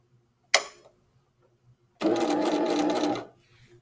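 A sewing machine stitches a clean seam close to the fabric edge: a sharp click, then about a second of steady, close motor whir running alone.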